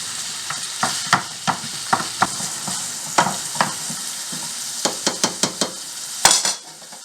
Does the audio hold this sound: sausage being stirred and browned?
yes